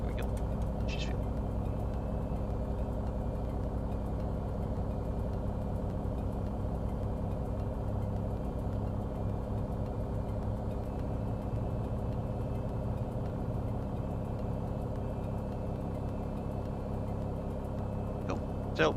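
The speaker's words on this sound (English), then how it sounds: "So pushing back now, engines are starting" Boeing 737 engines in the Zibo mod for the X-Plane 11 flight simulator, a steady low turbine drone and hum during pushback at Edinburgh, continuous and fairly loud with brief higher clicks at the start and end.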